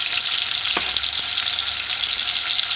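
Ingredients for Jamaican salt mackerel fry in a pan with a loud, steady hiss and crackle, broken by a couple of faint utensil taps, with no talking.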